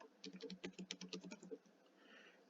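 Someone types on a computer keyboard, a brief quick burst of about a dozen soft clicking keystrokes lasting around a second, close but quiet, then stopping.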